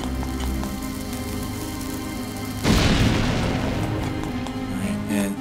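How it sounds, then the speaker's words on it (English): A bomb blast in Zelda: Link's Awakening, a sudden loud burst of noise that lingers as a crackling rumble, cutting into the steady chiptune game music that continues around it. "A bomb."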